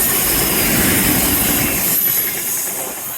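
A train runs along Brunel's seawall, a loud close rumble with clickety-clack wheel noise and some squeal, filling the whole stretch before easing slightly toward the end, no voices.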